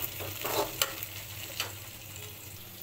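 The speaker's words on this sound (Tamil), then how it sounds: "வெங்காயம் வதங்கிட்டுருக்கு." Onions sautéing in oil in a pan for chicken pepper fry give a soft, close sizzle with a few sharp stirring clinks and scrapes early on, fading to a quieter, even crackle.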